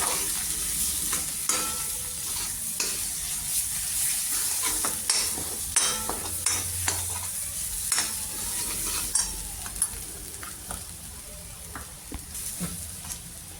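Hing and mutton masala with red chilli powder are stirred in hot oil in a pan for misal, a continuous soft sizzle broken by repeated scraping and tapping strokes of a spoon, close by.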